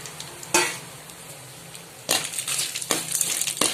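Red chillies, chana dal and peanuts dry roasting in a pan give off a soft crackle, broken by a few sharp scraping stir strokes, with no voices.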